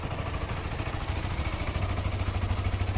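A 2016 Honda CBR 150i motorcycle with about 22,000 km idles close by, its engine putting out a steady, even pulsing rumble with no talk.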